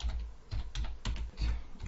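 Quick bursts of computer keyboard typing while writing code in an Excel macro editor, a close, steady clatter of keystrokes in short irregular clusters with no talk.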